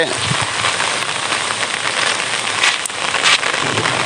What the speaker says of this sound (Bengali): আজ বৃহস্পতিবার সকাল আটটার সময়ে এই বৃষ্টিটা হচ্ছে